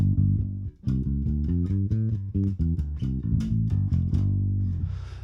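Electric bass notes played through an SVT classic bass amp, a steady run of plucked low tones with a warm, even sustain, close and fairly loud, alone without talk.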